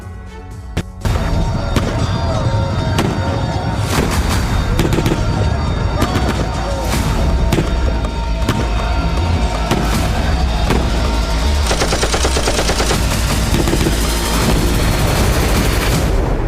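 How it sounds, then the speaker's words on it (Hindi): JDAM-guided Mark 84 bomb strikes and gunfire on a Russian army position in Kursk, a loud, dense barrage of repeated sharp blasts and crackling shots that starts abruptly and continues without pause. "कुर्स्क के तियोक्तिक्नु में रूसी सेना के ठिकाने पर यूक्रेन ने जडैम बमों से हमला किया।"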